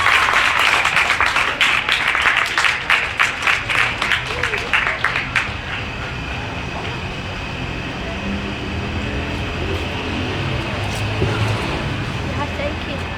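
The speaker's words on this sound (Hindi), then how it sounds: "आपकी भरपूर तालियों के साथ।" An audience at a school's annual ceremony claps loudly in a dense burst that thins out and fades into room murmur as a guest is called to the stage.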